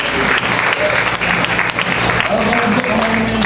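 A church congregation breaks into loud, sustained applause at the end of a prayer, close and dense clapping that stays strong throughout with voices mixed into the crowd noise.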